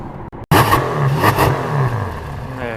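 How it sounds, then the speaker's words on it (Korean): The exhaust of a Ferrari 488 Spider bursts out loud and close after a brief silent moment. It delivers a raspy, revving roar that rises and falls over a couple of seconds. "네, 488의 배기음입니다."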